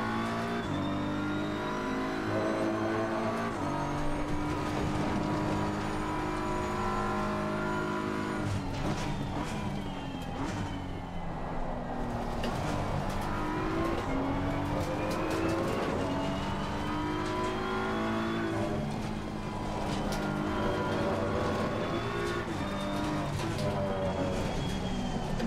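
Race car engine in the LFM racing sim at the Kyalami circuit, revving hard and continuously with rising and falling pitch through gear changes, braking and corners, loud and close throughout with no talking.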